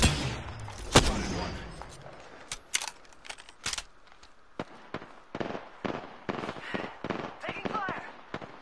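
Gunfire in the shooter game Apex Legends: irregular, sharp cracking shots and short bursts, some close and loud, others quicker and lighter, with game voices faintly underneath.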